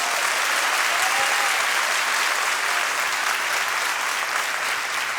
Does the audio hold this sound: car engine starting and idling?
no